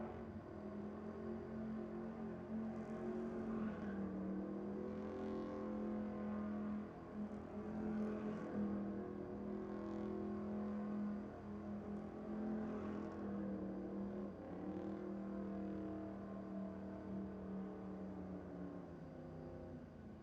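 A one-tonner ute doing circle work at Sydney Dragway. Its engine drones steadily from a distance, with the pitch rising and falling gently as it loops around for the whole stretch.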